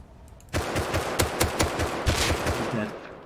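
Gunfire during a cargo ship raid in the survival game Rust: sustained rapid automatic fire, steady and fairly close, rattling for almost three seconds with overlapping shots.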